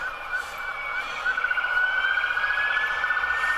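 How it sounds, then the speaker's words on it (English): Emergency vehicle sirens wail outside, a steady rising and falling tone that grows slightly louder over several seconds and plays alone with no talking. "There's been sirens all day long here."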